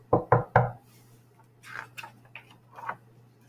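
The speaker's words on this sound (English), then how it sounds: "I rode my bike to his house and knocked" Three sharp knocks on a door ring out close and loud in quick succession, followed by a few softer, scattered clicks and rustles over a steady low hum.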